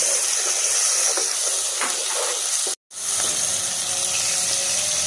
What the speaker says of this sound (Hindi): ये मेरे पास धनिया है, मैं इसको चॉपर में डाल के चॉप कर लूँ।